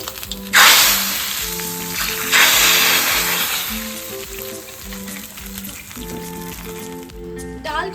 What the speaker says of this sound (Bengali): এবার দিয়ে দিচ্ছি শুকনো লঙ্কা, তো এবার ডালে ফোড়ন দিয়ে নিচ্ছি।